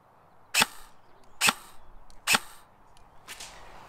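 Airsoft gun fired at a target 30 metres away, three sharp evenly spaced shots about a second apart, followed by a fainter fourth crack or impact, with little else around them.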